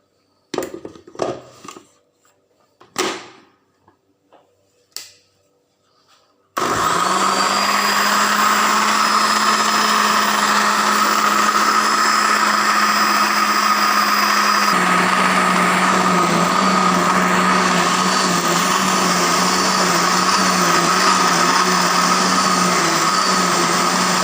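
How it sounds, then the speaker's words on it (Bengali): A kitchen blender runs steadily, grinding washed jute leaves for soup. A few soft knocks are heard before the motor starts, and then a loud, continuous whir holds for the rest of the clip, its pitch dropping slightly partway through. "এইভাবে পাটের শাক ব্লেন্ডার করি"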